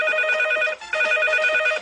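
Telephone ringtone from a caller line during a Polish radio call-in show: two bright electronic ringing bursts separated by a short gap, clear and close with no talk over them.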